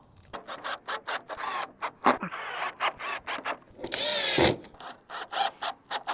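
Plastic car parts being screwed together during a crashed Mercedes CLA front bumper repair, a close series of sharp ratchet clicks in short uneven bursts with brief pauses and one longer rasping turn, no voices.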